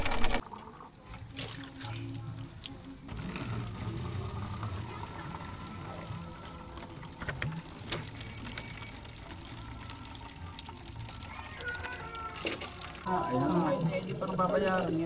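Water trickles weakly from a tap into a container while people fetch water. It is a steady thin stream under background voices, with a brighter splashing pour near the end.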